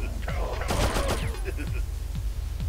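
Rapid gunfire bursts from the Abe's Exoddus video game, a fusillade of shots layered over busy game sound effects and a steady low background hum, fairly loud and dense through the middle.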